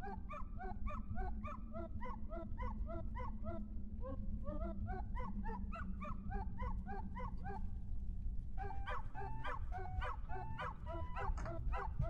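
In the video game Wandersong, a dog bug creature gives a rapid run of small, bright, repeated barks over a steady background music loop, fairly quiet and evenly rhythmic.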